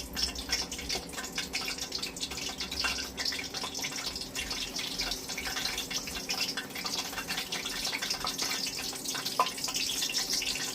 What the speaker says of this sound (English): It's not far off, because it's bubbling.